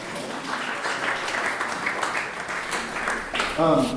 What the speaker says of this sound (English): please give yourselves a round of applause for being here.